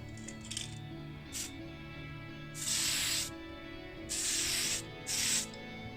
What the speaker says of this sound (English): Before we hit it up with the Tamiya Fine Surface Primer in white.